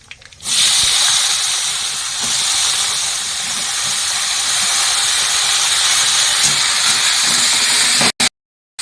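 Black cumin and vegetables dropped into hot oil in a pan for a Bengali tengra fish curry, giving a loud, steady sizzle that bursts in at once and holds for several seconds before cutting off.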